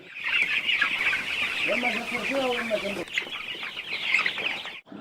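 Chickens clucking in a steady, busy chorus inside a poultry shelter on a farm in Sada, Mayotte, with rising, repeated calls from a bird close by partway through, over a constant barnyard background.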